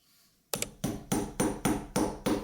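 Seven sharp, evenly spaced taps ring out after a brief quiet start, like a makeshift hammer striking something hard at close range.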